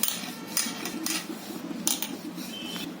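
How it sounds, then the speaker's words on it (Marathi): A knife cuts through rolled wheat flour and jaggery dough on a hard surface, producing a few distinct sharp taps and scrapes against a quiet background. "आता लाटून हे आता मी कापून घेते"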